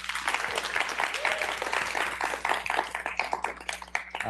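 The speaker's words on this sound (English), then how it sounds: "Let's hear another round of applause for Agbota." An audience applauds a presenter at a startup demo day in San Francisco, a full round of clapping that thins into scattered, sharper claps toward the end, with some talk faintly underneath.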